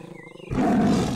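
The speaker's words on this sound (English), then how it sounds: "That is a Sumatran tiger." A Sumatran tiger in an animated children's show lets out one loud, close, rasping roar that bursts in suddenly after quiet background music and holds strongly to the end.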